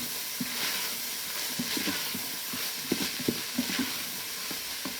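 A spoon stirs finely diced ingredients into a Bolognese sauce in an Instant Pot, with soft sizzling and a few light knocks and scrapes against the pot, close and quiet, with no talking.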